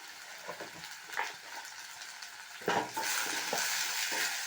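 Red rice poha with its ingredients is stir-fried in oil in a pan: a soft sizzle with intermittent scraping stirs, swelling into a louder, steadier frying hiss near the end.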